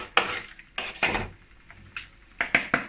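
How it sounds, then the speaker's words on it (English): Spoon scooping cooked tomato sauce out of a large pot of jollof base, with several sharp metallic clinks and scrapes against the pot spaced irregularly, close and fairly loud, no talking. "So I'll scoop some out before I mix with the rice."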